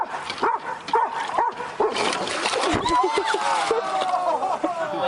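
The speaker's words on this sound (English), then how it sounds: "Poor dog." A dog that has just fallen whimpers, yips and barks in short bursts with a splash-like clatter. Someone talks over the yelps.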